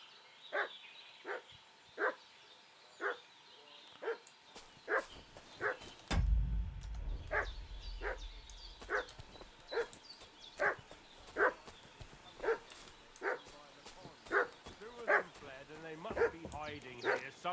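A dog in a video game barks and yips at a quick, steady rhythm through the whole stretch, mixed with whining, while a low rumble swells midway and then fades.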